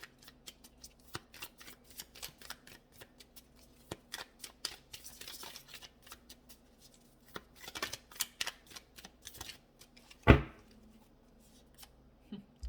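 Tarot cards are drawn and shuffled by hand in a quiet room, giving a long run of light, papery flicks and soft taps with a single sharper snap near the end.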